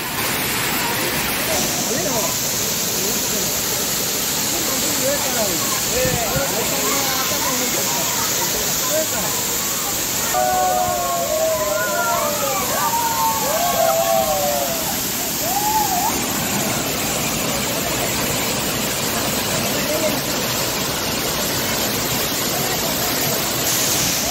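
Waterfall in Devgad taluka roars as a dense, steady rush of falling water, loud and close throughout, with a few faint voices briefly audible in the middle.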